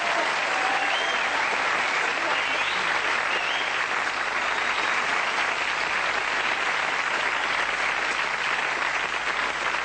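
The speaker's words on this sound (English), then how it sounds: "Can we have a round of applause?" A studio audience at a television sketch comedy show applauds in a loud, dense, continuous burst of clapping that holds steady for about ten seconds with no talking.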